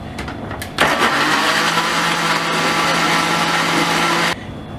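A kitchen blender grinds mango juice with sugar, starting abruptly into a loud, steady whirring roar that holds for several seconds and then cuts off.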